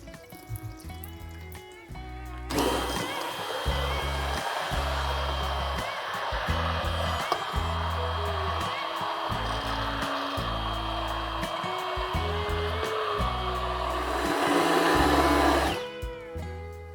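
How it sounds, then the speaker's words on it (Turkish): A hand blender purées roasted tomato soup in a pot with its motor whirring loud and steady for about thirteen seconds. The sound starts abruptly and stops abruptly, with quieter background noise before and after. "çorbamızı blenderdan geçirdik"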